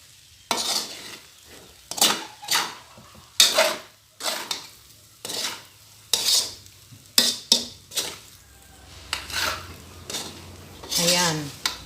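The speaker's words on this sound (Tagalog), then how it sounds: "Ang ilagay natin na pinakahuli ang ating spring onions. At haluin lang." Fried rice with spring onions is stirred in a pan, giving loud, close, repeated scraping and clattering strokes of the utensil against the pan in an irregular rhythm, with a faint sizzle underneath.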